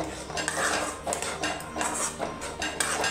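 A spoon clatters and scrapes steadily around a metal pot of soybean gravy with chili powder, making busy, close metallic clinks and rattles over about three seconds with no voices.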